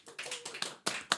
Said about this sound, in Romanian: De aplauze.